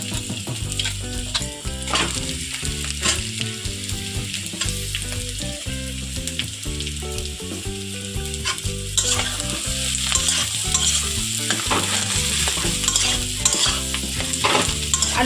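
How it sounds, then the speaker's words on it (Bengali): Onion, chili and potato fry in oil with a steady sizzle and stirring, partly masked by louder background music playing throughout. "খুব ভালো করে একটু তেলে ভেজে নেব পেঁয়াজ আর লঙ্কাটা তো এখন আমি দিয়ে দিচ্ছি ওই আলুটা"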